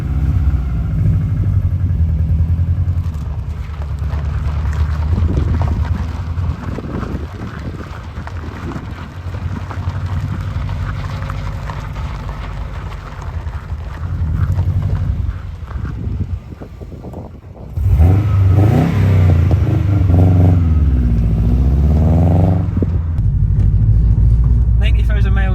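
A Series McRae car with Recaro seats driven on an airfield runway, engine droning steadily with wind buffeting the microphone and a louder surge of acceleration later, while people talk over it.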